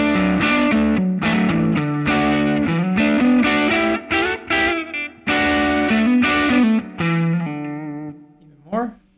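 Distorted electric guitar runs through a Line 6 Helix amp model with the presence control pushed to an extreme, bright chords and riffs ringing loud and close in choppy phrases with short pauses, ending in a final strum.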